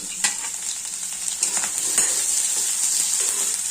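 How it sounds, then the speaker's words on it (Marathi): Paneer frying in hot oil in a kadhai, a steady bright sizzle with occasional scraping and stirring knocks, close and without speech. "लालसर होईपर्यंत पनीर फ्राय करून घ्यायचे"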